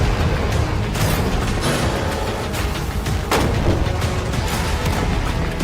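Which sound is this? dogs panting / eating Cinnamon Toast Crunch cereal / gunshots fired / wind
gunshots fired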